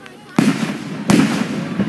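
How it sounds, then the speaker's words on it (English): Fireworks explode at an outdoor show in two sharp, loud booms about two-thirds of a second apart, each leaving a crackling rumble, with a faint third pop near the end and people's voices underneath. "That was a firework."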